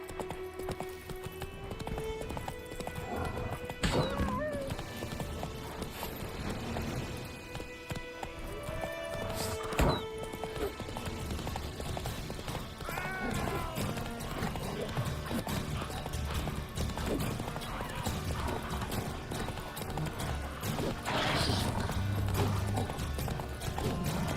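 Rhythmic hoofbeats of Roach, the horse in The Witcher 3: Wild Hunt, galloping steadily throughout, with occasional neighs and game sound effects mixed in, while a player talks now and then.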